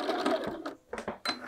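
A sewing machine back tacks a few stitches on small divided pockets of a field bag, giving short, close mechanical bursts separated by brief pauses.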